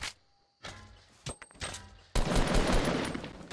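Gunfire in the video game Fortnite: a short burst of sharp shots, then a loud dense stretch of rapid firing close up, with no talk over it.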